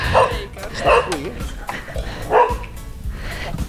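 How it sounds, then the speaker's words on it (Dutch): A cocker spaniel greeting visitors at a doorway gives several loud, close barks and yips mixed with whimpers, while people talk in the background. "We worden verwelkomd door een hele lieve kokkerspaniel."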